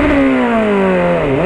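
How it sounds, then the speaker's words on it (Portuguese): A small motorcycle engine drones steadily as it approaches, a loud, close, sustained buzzing tone that dips slightly in pitch near the end. "Tem uma motinha vindo ali, né?"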